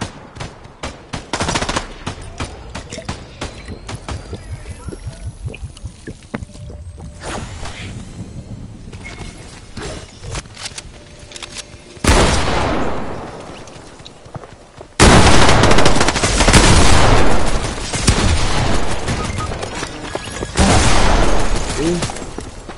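Turret gunfire in a video game, bursts of rapid automatic shots that start sparse and then turn into loud, dense, sustained volleys in the second half.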